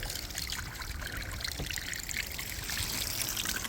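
Garden hose water splashing and trickling onto a car body while rinsing, a soft continuous patter and dribble with no voices.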